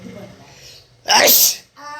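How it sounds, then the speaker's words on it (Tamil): A single loud, sharp sneeze bursts out close to the microphone in a domestic setting, briefly cutting through a woman's speech, which resumes right after. "இந்த பார்த்தீங்களா தும்மல் வந்துருச்சா"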